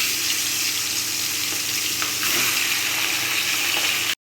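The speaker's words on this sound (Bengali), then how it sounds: "আর এই যে দেখো ভেটকি মাছের তেলটা ভাজছি" Bhetki fish fat frying in its own rendered oil in a pan, a steady close crackling sizzle running unbroken for about four seconds before cutting off abruptly.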